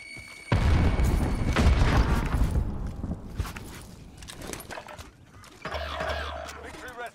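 Frag grenade going off in a shooter video game: a deep, loud boom bursts in early and rumbles out over a couple of seconds, followed by scattered game noises and another low rumble near the end.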